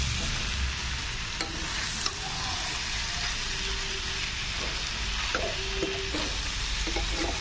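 Potato curry for aloo methi being stirred and scraped in a pan, a steady close sizzle with scattered scrapes and clinks of the spoon against the metal, no voices.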